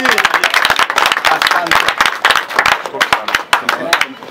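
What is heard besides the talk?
audience clapping at office opening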